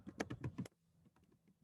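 Quiet typing on a computer keyboard: a quick run of about six sharp key clicks, then a few fainter scattered taps.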